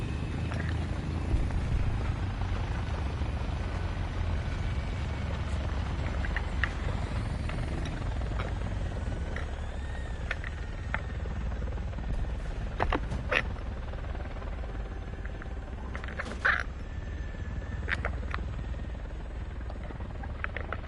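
Helicopter in the War Thunder video game, a steady low rotor drone running throughout with occasional creaks and mechanical clicks, fairly distant and sustained.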